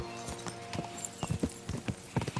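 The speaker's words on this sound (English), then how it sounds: "What's the horse doing?" A roaming horse's hooves clip-clop in an irregular walking rhythm at close range in Kingdom Come: Deliverance II, with no talk.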